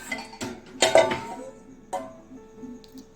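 Washed pots, a milk pan and a kadai clink and clatter as they are lifted out of a dishwasher, a few sharp metallic knocks spaced irregularly, close and without talk.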